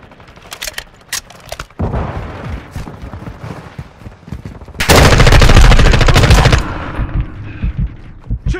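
M4 rifle fire in Call of Duty Modern Warfare II, loud and close: single cracks and short bursts, then a sustained rapid automatic volley lasting about two seconds before more scattered shots.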